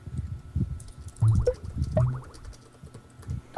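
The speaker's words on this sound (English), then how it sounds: "you should hear my keyboard" Soft, irregular clicking and tapping of keys on a keyboard, close by and fairly quiet, with a few slightly louder presses.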